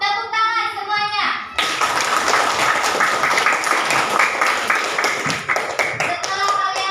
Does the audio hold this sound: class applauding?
yes